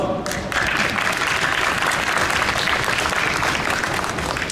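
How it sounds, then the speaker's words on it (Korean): Press conference audience applauding the Lexus UX hybrid at the Seoul Motor Show: a brief sound at the start, then full, dense clapping from a crowd that holds steady and loud to the end. "박수 한 번."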